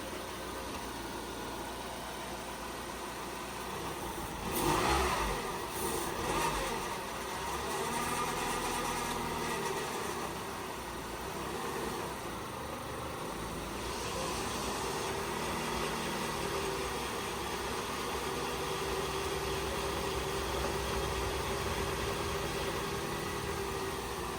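A car engine runs at a steady idle, a continuous low hum with a brief louder rev near the start.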